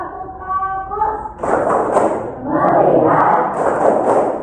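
A school class does a rhythmic focus clap together, with loud, fast group clapping and thumps mixed with children chanting in unison after a brief spoken cue.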